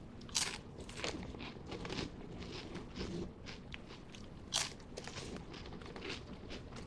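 Wavy Funyuns onion flavored chips crunching in the mouth: close, irregular bites and chewing crackles, with two sharper crunches standing out, no talking.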